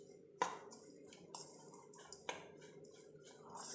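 Spoon stirring chopped vegetables with turmeric, garam masala and salt in a bowl for a vegetable egg omelette, heard as a few faint, scattered clinks against a quiet background.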